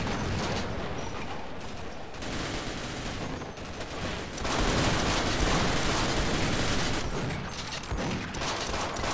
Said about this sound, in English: The soldiers are shooting me!